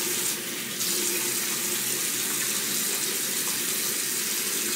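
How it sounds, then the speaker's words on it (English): Warm tap water runs steadily into a sink while hands are washed with antibacterial soap, a close, continuous hiss and splash with slight shifts as the hands move under the stream. "I just use antibacterial hand soap just to get my hands all nice and clean. Warm water."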